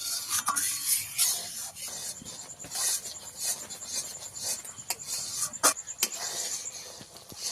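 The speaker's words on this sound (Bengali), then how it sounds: "আরও একটু নেড়ে চেড়ে নেব" A thickening ripe jackfruit candy mixture is stirred in a pan over low heat, giving close, steady scraping and rubbing strokes with a few sharper clinks of the spoon against the metal.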